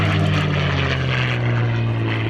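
Propeller aircraft flying at an airshow at Cosford, a steady loud engine drone holding through the whole moment with a slight downward shift in pitch as it passes, no voices.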